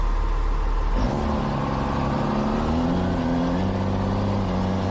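A 6.7 Cummins diesel pickup truck rolls into the throttle and accelerates, its engine note climbing steadily and loudly from a low idle rumble into a rising, sustained drone with no talk.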